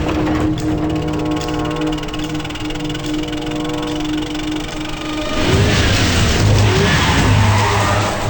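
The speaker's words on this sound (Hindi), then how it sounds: "देवा के आदमी आ रहे हैं, और तेज चलाओ" A car speeds off on a road, its engine droning loudly at a steady pitch before the sound swells into a rougher, louder roar with tire noise toward the end, heard close and without speech.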